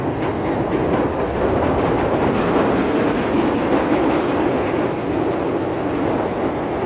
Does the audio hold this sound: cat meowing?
no